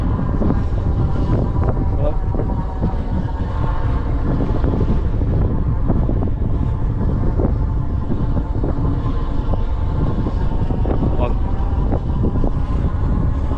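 Steady wind buffeting a microphone on a windy day, a continuous rumbling roar with scattered clicks and rattles from a moving Himiway D5 Zebra e-bike.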